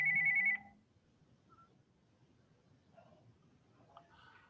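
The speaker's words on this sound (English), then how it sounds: "Just wait till the ringing stops" A telephone rings once in a brief loud burst at the start, then cuts off, leaving faint room noise and small sounds.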